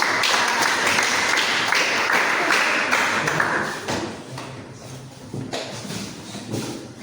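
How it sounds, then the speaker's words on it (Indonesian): Classmates clap for a student group after its presentation in a classroom: a dense burst of hand claps, steady for about four seconds, then thinning into scattered claps and a fainter patter. "kita beri tepuk tangan buat mereka"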